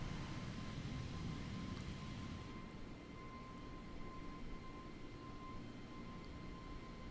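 An Air France Airbus A320 (FlyByWire A32NX) airliner in Microsoft Flight Simulator, heard from outside during its climb out of Milan, gives a steady, fairly faint jet engine roar with a thin high whine running underneath, no voices.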